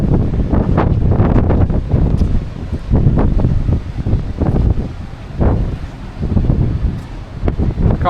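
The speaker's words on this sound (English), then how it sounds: "I'm telling you now, it's windy," Strong gusting wind buffets the microphone on a ship deck, a loud continuous roar rising and dipping in gusts, with no clear talk over it.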